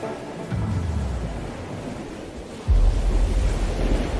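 A tidal bore surges up a river in Shanghai, a broad, rushing roar of churning water with a deep rumble that swells suddenly to a louder, heavier wash partway through.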